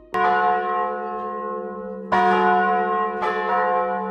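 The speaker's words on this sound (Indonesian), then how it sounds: "lonceng gereja juga dipakai dan dibunyikan di dalam gereja" A large church bell rings three times, each loud strike followed by a long, humming resonance that overlaps the next.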